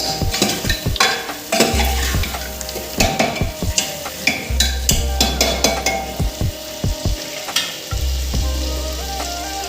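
Potatoes fry in a pan with a steady sizzle, broken by frequent clattering scrapes and knocks of a utensil stirring against the pan, close and fairly loud, with no talking.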